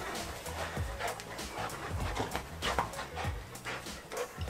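A dog nearby pants and huffs in quick irregular bursts, with occasional small whines and yips while being shaken and played with.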